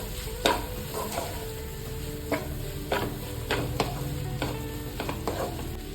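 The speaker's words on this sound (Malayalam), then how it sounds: "നന്നായിട്ടൊന്ന് വഴറ്റി കൊടുക്കാം." A spiced puff filling flavoured with fennel powder sautés in a pan, with a steady soft sizzle broken by repeated scraping stirs of a spoon, close and moderately quiet, with no talk.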